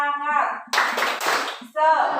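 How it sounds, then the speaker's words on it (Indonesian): Schoolchildren in a classroom do a rhythmic spirit clap, a short burst of quick group clapping between bouts of sung chanting. "Nah, kita tepuk semangat."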